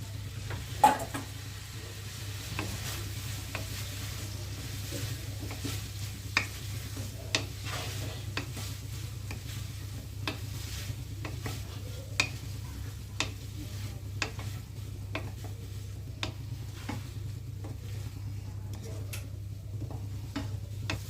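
Boiled broccoli fries in a pan with onion, chili and ginger-garlic paste, giving a soft continuous sizzle broken by regular clicks of a spatula stirring against the pan, close and fairly quiet.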